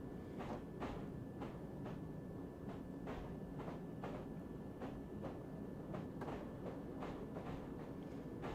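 A video-game train in Train Simulator 2020 rolls steadily out of Elephant & Castle station on the Bakerloo Line at about 15 mph, with repeated clickety-clack beats from the wheels and a constant low rumble, no voices.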